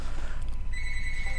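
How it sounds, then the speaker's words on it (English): A phone rings in short electronic tones against a loud, steady low rumble of engine and water noise while riding a boat in Half-Life 2. "Oh, great. My phone's ringing."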